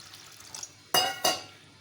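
Water poured from glasses into a bowl of pani puri mix with mango squash and spices: two short, bright splashing gushes close together, loud against a quiet kitchen background.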